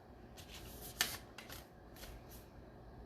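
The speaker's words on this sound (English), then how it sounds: "I'm going to shuffle a couple cards." Tarot cards being shuffled by hand, a soft papery riffle with a sharper snap near the middle, close and quiet with no talking.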